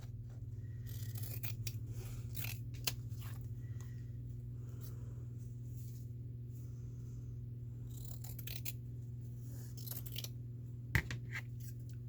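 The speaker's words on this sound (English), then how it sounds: "So let's just cut us a piece of this." Scissors cut a piece from an old Christmas card in a few crisp, close snips over a steady low hum, with no voices.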